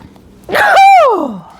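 A single loud sneeze close by, a sharp intake followed by a burst that trails off in a falling, voiced tone.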